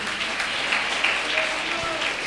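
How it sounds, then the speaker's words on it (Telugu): Church congregation clapping together during a prayer service, a steady crowd applause of many hands, continuous and fairly close, with a voice calling out over it. "చప్పట్లు కొట్టి గట్టిగా చెప్పండి"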